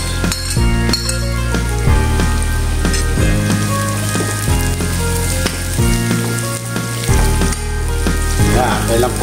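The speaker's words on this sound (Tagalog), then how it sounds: "Lagyan na rin po natin yung pong sibuyas mga ka-viewers." Onions sizzle and crackle in a hot pan for adobong sitaw with chicken, a loud, dense frying hiss with steady popping throughout, heard up close with no talking.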